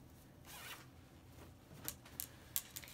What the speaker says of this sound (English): Let's open the zipper